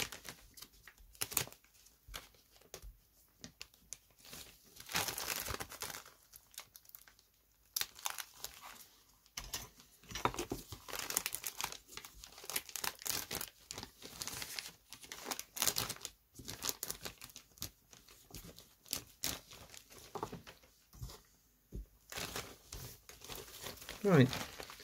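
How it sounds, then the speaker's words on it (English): Plastic sheet being peeled back off a glued balsa model tailplane frame, an irregular series of close crinkling and crackling rustles lasting the whole stretch, with brief pauses between pulls. "Let's see if I can hold it down and peel the plastic back"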